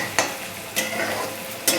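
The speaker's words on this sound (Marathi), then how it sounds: "कांदा चांगला फ्राय करून घ्यायचा आहे. कांदा फ्राय होतो." Onion frying in a pan for a yellow potato bhaji: a constant close sizzle with a few brief spatula stirs scraping the pan.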